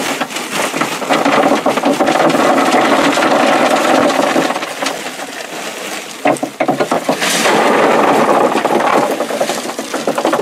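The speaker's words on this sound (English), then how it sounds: "Drop that gravel in." Gravel poured into a sump pump pit, a loud close rattling rush of stones that eases briefly midway and then surges again.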